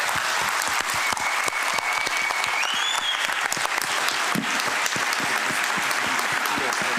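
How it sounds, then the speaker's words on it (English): Audience applause after a presentation at a makeathon final pitch event, a loud, sustained clapping from a crowd close by, with a brief whistle rising above it midway. "A really big applause from us, from Moore, for you."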